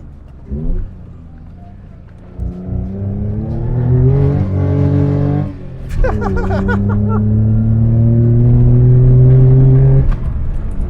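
A Daihatsu Handivan L700 with a 989cc engine revs hard through a hairpin bend, climbing in pitch, briefly dropping off, then straining up again, heard loud from inside the car with brief laughter and voices.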